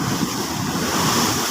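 Ocean surf rushes and roars in a dense wash of noise, big waves left by Typhoon Kristine breaking close by with wind.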